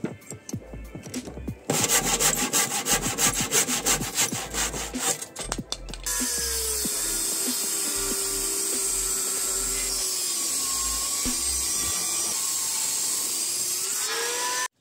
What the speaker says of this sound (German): Und deswegen müssen wir einfach nur gerade runtersägen.